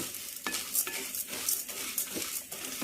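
Urad dal frying in a pan while a spoon stirs it, a soft sizzle under repeated scraping strokes against the metal, close and fairly quiet.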